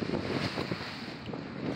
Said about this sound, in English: I'm heading directly into the wind, and I'm motoring